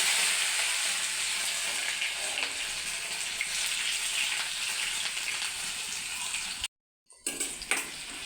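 Chopped ginger fries in hot oil with pepper and cumin, giving a steady, close sizzle and crackle that drops out briefly near the end before resuming.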